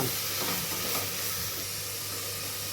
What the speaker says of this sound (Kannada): ನಂತರ ಸೋಯಾ ಚಂಕ್ ಹಾಕ್ತಾಯಿದ್ದೀನಿ. ಇದನ್ನೊಂದೆರಡು ಸಲ ಕೈ ಆಡಿಸ್ಬಿಟ್ಟು